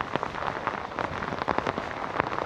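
Heavy monsoon rain pours in the Sahyadri hills near Hapatyacha Kada, a dense steady hiss with sharper drops spattering close on nearby surfaces throughout, no voices.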